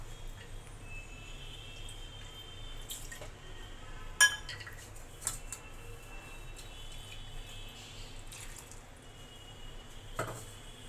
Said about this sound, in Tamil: இப்போ இந்த மிக்சியை நல்லா அலம்பி விட்டுக்கலாம்.